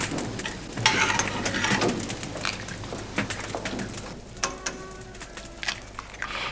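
Shallots, mushrooms and red wine reduce in a pan for a Burgundy-style oeuf en meurette sauce, giving a steady soft sizzle and bubbling with occasional spoon scrapes and clinks, fairly close and alone.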